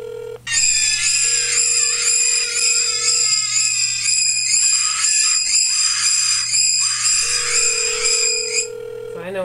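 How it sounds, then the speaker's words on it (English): A phone ringtone of repeated high-pitched electronic screaming plays loudly and continuously for several seconds, with a sustained steady tone underneath. "That is now set as Troy's ringer. Because when he calls, you want to scream."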